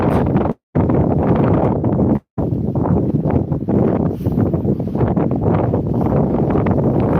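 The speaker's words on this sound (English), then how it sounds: "it's very windy" Strong seaside wind at Withernsea buffets the microphone in loud, rumbling gusts that roar continuously, cut by two brief dropouts.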